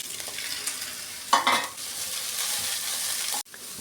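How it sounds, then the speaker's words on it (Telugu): Finely chopped cabbage tipped into a hot pan, with a brief burst of rustling and sizzle as it lands, then a steady soft frying hiss close by. "ఇప్పుడు మనం సన్నగా తరిగిన క్యాబేజీని కూడా వేసేసుకుందాం"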